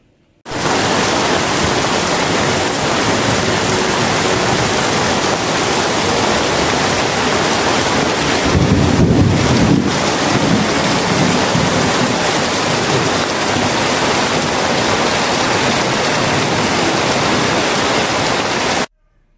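Heavy rain pours steadily onto a covered motorcycle, a dense, loud, even hiss that continues unbroken for the whole stretch, with a brief deeper swell midway and no voices.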